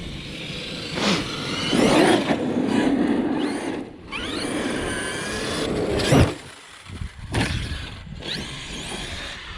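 An Arrma Kraton 8S RC truck bashing around a park at full throttle, its electric motor whining and surging in repeated bursts, with rising pitch sweeps and brief dips between runs.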